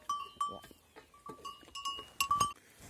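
Goats on a farm bleat in a series of short, separate calls, several in quick succession, fairly close and loud over an otherwise quiet yard.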